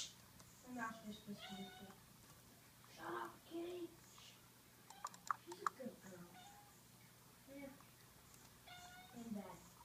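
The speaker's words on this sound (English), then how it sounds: "Do you hear kitty meowing?" A cat meows several times, close by, in short plaintive calls spread across the stretch, with quiet background noise and occasional soft clicks.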